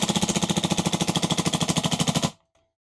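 A GHK G5 airsoft gas blowback rifle running on CO2 with a Devil Hunter mod empties a full magazine in one fast, loud, evenly spaced burst of about twenty-five sharp shots, then stops dead into silence.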